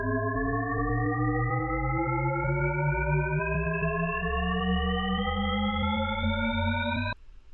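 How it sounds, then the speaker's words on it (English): A Shepard tone, a stack of steady electronic tones spaced an octave apart that glide smoothly upward together for about seven seconds with no pause, alone and at a steady level before it cuts off abruptly. "A similar example mentioned in the book is the shepherd tone"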